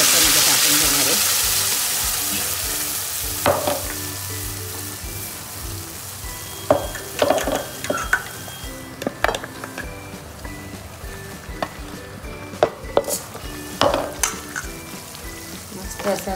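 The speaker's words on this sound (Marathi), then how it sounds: "मस्त असं आता हे तेल सुटेपर्यंत मी परतून घेणार आहे." A ground masala paste mixed with curd sautés in about two spoons of hot oil for a Maharashtrian Veg Kolhapuri: a continuous close sizzle broken by sharp spatters and irregular stirring scrapes, with the initial rush of hiss easing as it settles.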